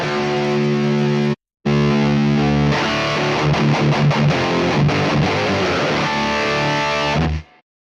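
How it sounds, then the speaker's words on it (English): Electric guitar run through a Neural DSP Mesa Boogie Mark IIC+ amp sim, heavily distorted chords ringing out, a brief cut to silence, then fast chugging palm-muted riffing that stops abruptly. "very pleasant tube distortion."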